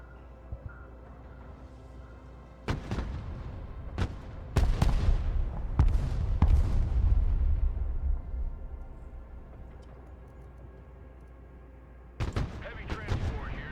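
Artillery direct fire in the Broken Arrow war game: several sharp, loud booms in quick succession, then a long rumbling roll of blasts fading out, followed by a later cluster of cracks.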